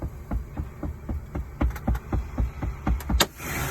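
A truck's air brake valves pop out as air pressure drops after repeated brake pumping: a run of rhythmic close thumps and soft hisses, ending in a sharper pop and a lingering hiss of escaping air.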